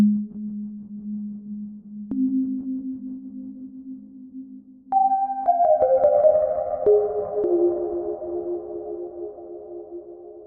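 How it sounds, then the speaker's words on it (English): A pure sine-wave synth tone in Ableton, drenched in reverb, holds a low note, then jumps higher into a cluster of sustained, gliding tones that fade into a long washy tail, alone with no voices. "That's just a sine wave."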